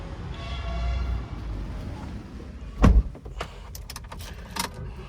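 A car unlocking on a hot day, with a sharp clunk of the door locks releasing near the middle, then a few lighter clicks and handling noises afterward over steady outdoor background hum.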